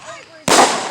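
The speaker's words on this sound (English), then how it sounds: "Lucky that you are watching fireworks at all" Fireworks at a backyard-style show: a sudden loud, close burst of crackling explosion cuts in partway through, following a quieter stretch with a faint whistle-like launch tone, then a sustained noisy crackle that slowly fades.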